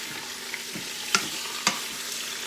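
Beef pieces searing in a hot pan and being flipped over to brown on all sides, giving a steady close sizzle with a few sharp clacks and scrapes as pieces are turned, and no talking.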